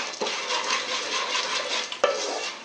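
Popcorn kernels being stirred with salt and turmeric in a pan, a steady close scraping and rustling with a couple of sharper clinks against the metal.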